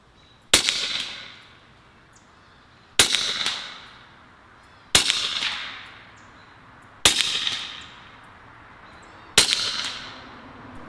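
Five air rifle pellet shots at a target, each a sharp loud crack with a short ringing metallic decay, spaced roughly two seconds apart with quiet between.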